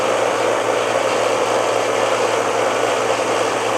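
A Harbor Freight 1x30 belt grinder runs at max speed with a constant, steady motor whine and hum that stays loud and close throughout, with no talking.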